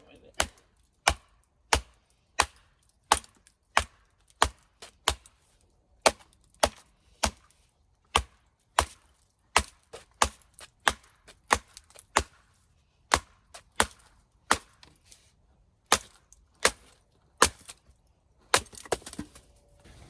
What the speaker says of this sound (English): Bear claw with that high saber grind does amazing work for batoning